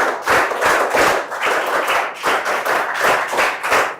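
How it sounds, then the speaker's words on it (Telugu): Loud, sustained applause from a group of schoolchildren in a classroom, rhythmic clapping bursts pulsing steadily throughout with no talk over it. "గట్టిగా చప్పట్లు కొట్టి అభినందించండి."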